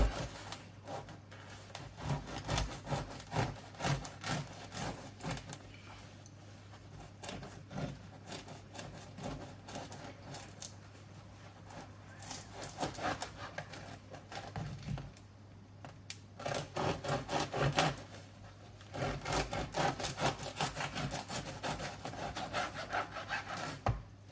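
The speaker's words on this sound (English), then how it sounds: "now I'm just going to cut my bread" A bread knife saws through a loaf to cut a thick, chunky slice, with a long run of rhythmic rasping strokes, close and steady, growing louder near the end.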